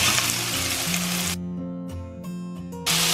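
Meat sizzles in hot oil with onions in a pan, a loud, steady frying hiss that breaks off briefly mid-clip while music plays underneath.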